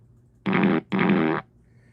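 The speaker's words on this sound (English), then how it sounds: "some guy walked up to you and farted on you" Two fart sound effects played by a sound guy, each a loud, buzzy blast of about a third to half a second, close together, with near silence around them and no talk.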